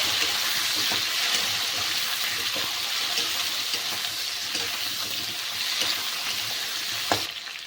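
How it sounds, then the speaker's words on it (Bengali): A tomato sautés with ginger in a pan for a cabbage curry, a bright continuous sizzle broken by stirring scrapes and soft clinks, loud and close with no talking. "এর মধ্যে দিয়ে দেবো আমি একটা টমেটো দিয়ে ভালো করে একটু কষিয়ে নিতে হবে"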